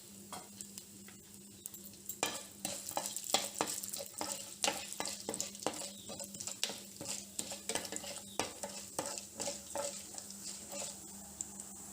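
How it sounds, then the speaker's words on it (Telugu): Tempering seeds fry in hot oil in a pan for a South Indian curry, a steady close sizzle broken by frequent scraping taps of a spoon stirring against the metal. "బ్రౌన్ కలర్ వచ్చేదాకా వేయించుకున్నాము."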